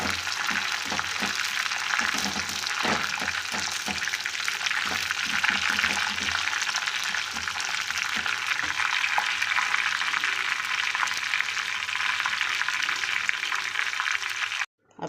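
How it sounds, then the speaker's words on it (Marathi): Murmura chivda ingredients such as coriander fry in hot oil until the water cooks off, giving a dense, steady sizzle with scattered crackles and occasional stirring clatter that runs loud throughout, then cuts off abruptly at the end. "पूर्ण पाणी सुकेपर्यंत तळून घ्या."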